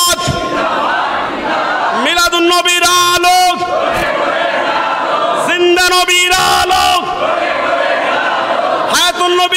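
At a religious sermon gathering, a crowd roars back in unison to a leader's Naraye Takbir call, loud bursts of massed voices repeating several times between stretches of the leader's amplified calls.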